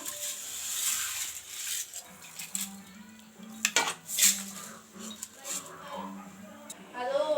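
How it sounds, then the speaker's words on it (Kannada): Mung beans being washed in a metal pot, with close clinks and knocks of the vessel and soft swishing in irregular bursts, while a voice speaks quietly in the background. "ಇವಾಗ ಹೆಸ್ರು ಕಾಳನ್ನು ತೊಳೆದು ಹಾಕೊಳ್ಳೋಣ"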